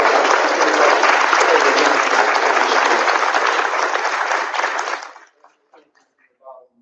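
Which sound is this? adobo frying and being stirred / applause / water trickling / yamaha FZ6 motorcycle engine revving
applause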